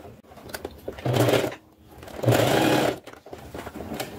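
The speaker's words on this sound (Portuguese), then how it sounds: "Agora vamos costurar em toda a volta." A sewing machine stitches around a handmade fabric gift in two close, whirring runs of about half a second and three-quarters of a second, with quiet handling noise in between.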